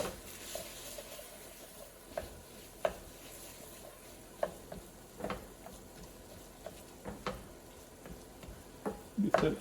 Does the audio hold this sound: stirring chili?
yes